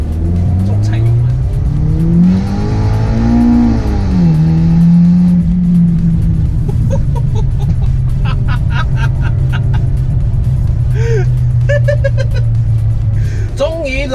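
Mitsubishi Lancer EVO X Final Edition with automatic gearbox under hard throttle, engine note rising and swelling loudly from inside the cabin, then settling into a steady drone while someone talks over it.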